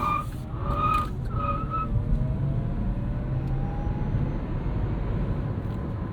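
2022 Chevrolet Bolt EUV electric car pulling onto a road and accelerating hard, a rising electric motor whine over a heavy, constant rush of road and tire noise, with no talking.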